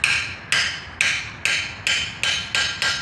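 Sharp metallic strikes on a forge-welded piece being cut near its end at a blacksmith guild meeting, seven evenly spaced ringing blows about half a second apart, each decaying quickly, loud and close with no talking.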